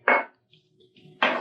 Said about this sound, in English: I'm going to add the almonds so it mixes in with the flour